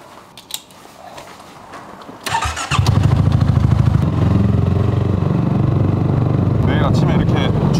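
A motorcycle engine starts up after some clatter and settles into a loud, steady running idle close by.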